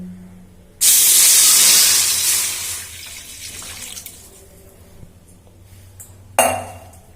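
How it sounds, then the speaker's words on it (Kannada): Water from a jug pours into a frying pan to start jaggery syrup, a loud bright splashing gush that tapers over a few seconds, followed by a brief second splash near the end. "ಈಗ ನಾನು ಬೆಲ್ಲದ ಪಾಕ ಮಾಡೋಕ್ಕೆ ಒಂದು ಚೊಂಬು ನೀರು ಹಾಕೊಳ್ತಾ ಇದ್ದೀನಿ ಬಾಣಲೆಗೆ"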